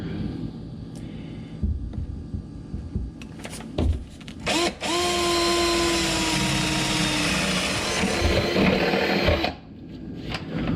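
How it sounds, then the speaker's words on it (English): A power drill whines up and bores steadily through a new floor for several seconds, close and loud, after a few clunks and short bursts, then stops. "I can't believe I'm going to drill into our nice new floor."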